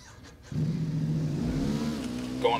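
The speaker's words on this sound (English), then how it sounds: "I'm hearing engine noise" A vehicle engine in the Ghost Recon video game starts up abruptly and holds a steady, loud low rumble with slight rises in pitch, like revving, plus a brief higher tone near the end.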